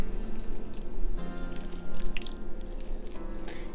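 Water drains from freshly rinsed grapes in a kitchen, making a busy, close trickle with irregular drips and splashes that runs the whole time with no talking.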